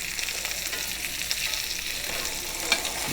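Steak frying in a hot pan gives a steady, close sizzle with faint crackles and one or two sharper pops, and no voices over it.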